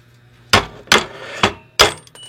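Hammer blows knocking loose a clutch motor from a sewing machine: four sharp, loud metallic whacks spaced about half a second apart, each ringing briefly, with quiet pauses between.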